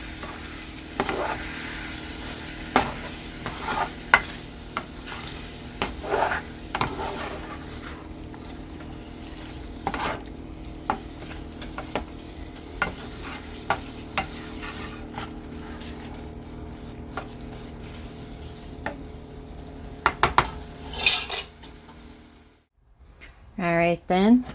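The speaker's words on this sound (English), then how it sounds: "and the sausage that you cut up. Just mix it up real well." Spaghetti mixed with cut-up hot Italian sausage being stirred, giving repeated soft scraping and clinking strokes at close range over a steady low background hum, with a few sharper knocks near the end.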